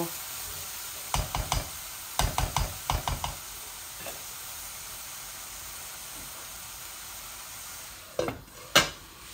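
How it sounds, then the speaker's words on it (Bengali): Lai greens frying in an oiled pan give a steady soft sizzle, broken by clustered scrapes and knocks of a spatula stirring against the pan, then a quiet stretch before a few final clatters; no one speaks. "আর একটু ভাজা ভাজা হয়ে যাক, তারপর আমি এই মাছ ভাজিটা এখানে ঢেলে দিব।"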